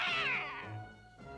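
A cartoon cat from a Smurfs episode lets out a single drawn-out, wavering meow that falls in pitch, fairly close and clear with no talk over it.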